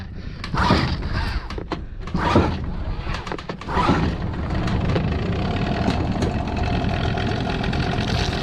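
A Sharmax SM 9.9 HS outboard boat motor sputters through a few uneven bursts, then settles into a steady, close idling drone with no talk.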